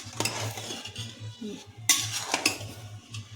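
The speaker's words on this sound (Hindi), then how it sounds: "अब इसको हल्के हाथों से आप चला लीजिए" A spoon scrapes and clinks against a metal pot while chicken mandi rice is gently stirred, with several distinct metallic taps and soft scraping strokes up close and a low steady hum underneath.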